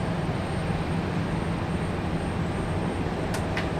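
Delta airliner taxiing out at Raleigh-Durham airport, a steady broad jet engine roar held at moderate distance throughout, with a couple of brief high whine bursts near the end.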